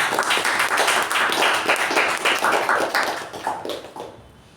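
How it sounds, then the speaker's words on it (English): An audience at a Toastmasters club meeting applauds, a dense burst of clapping close by that continues for several seconds and then tapers away. "So can we have a huge round of applause for Toastmaster Sai Snehal?"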